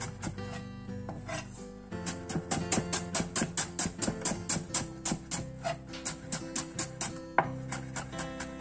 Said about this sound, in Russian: порежу пока салатную луковичку тонкими полукольцами